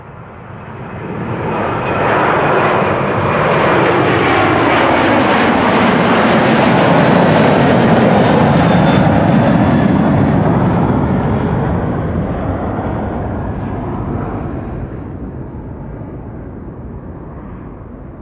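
A Delta airliner rolls past at Amsterdam Schiphol Airport, its jet engines swelling into a loud, roaring pass with a rising and falling whine before fading into a distant rumble. No voice is heard.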